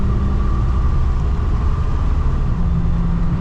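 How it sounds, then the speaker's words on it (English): A 1988 Ford F250 4x4 farm truck with a carbureted big block 460 V8 accelerates with a loud, steady low rumble and a droning tone from inside the cab, with no talk. "Got that big block 460. Love that throttle body sound."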